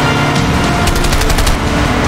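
Loud, rapid machine gun fire in the video game A Way Out, a dense sustained burst of shots with sharp repeated cracks over a heavy rumbling game soundscape, with no speech.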